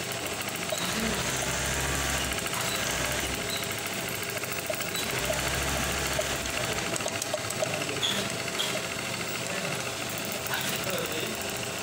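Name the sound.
Brother LH4-81 manual buttonhole sewing machine running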